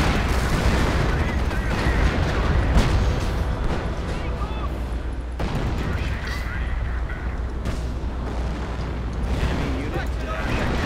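A continuous artillery barrage in Hell Let Loose, with dense rumbling explosions and booms layered over one another, steady and heavy throughout, and some talk beneath.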